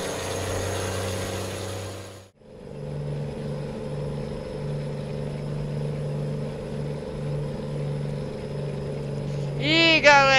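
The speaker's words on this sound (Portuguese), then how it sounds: "que caminhão barulhento!" A Ford Cargo truck in Euro Truck Simulator idles with a steady low engine drone and humming tones after a brief cutout near the start, ending with a short rising whine.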